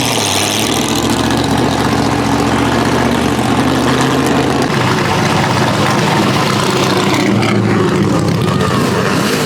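A hypercar engine runs steadily and loudly at Canada's Goodwood Festival of Speed, where cars take on a hill climb, a heavy continuous drone with a deep low rumble that holds throughout without a break.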